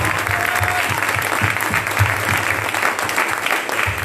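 A church congregation breaks into steady, dense applause that continues evenly for several seconds, with faint voices mixed underneath.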